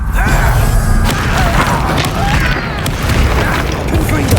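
A Confringo blasting spell explodes in Hogwarts Legacy with loud, dense booming and crashing debris, a continuous roar of combat noise that stays strong throughout and has faint voices mixed in.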